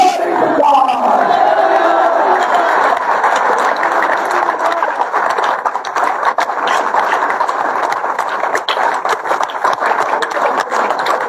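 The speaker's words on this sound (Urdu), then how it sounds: "ہلیلویا، نعرے مارو، گلوری ٹو گاڈ۔" A church congregation shouts in loud, sustained unison during a Christian sermon, a dense roar of many voices filling the whole stretch without pause.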